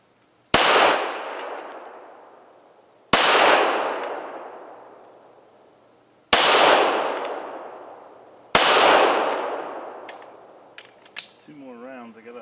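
Four loud, sharp pistol shots from a Canik TP9 SFX ring out a few seconds apart, each followed by a long echoing decay outdoors, with a faint voice near the end.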